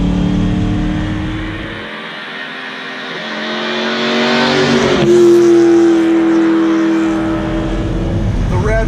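A 1974 Alfa Romeo Montreal engine revs up loudly with a rising harmonic whine, holding a strong high note around the middle before the pitch falls and climbs again, heard close and continuous.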